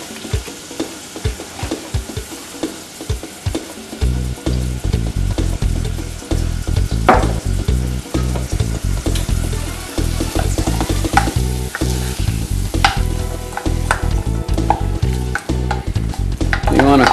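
A roux of oil and flour sizzles loudly with vegetables in a pot while being stirred, a constant frying crackle layered with repeated scraping strokes of a utensil over nearly the whole span.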